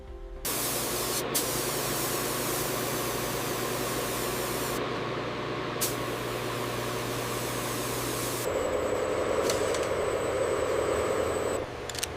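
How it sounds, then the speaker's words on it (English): Computer-guided spray guns hiss continuously, applying dark pigment onto snake skin, a loud, steady blast of spraying, shifting tone partway through, with faint machine hum beneath. "computer-guided spray guns apply contrasting dark pigments directly onto the scale contours"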